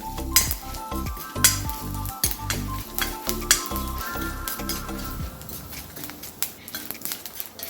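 Urad dal frying in a pan until browned, a steady sizzle with repeated scraping stirs and occasional clinks of a spoon against the pan, close and alone.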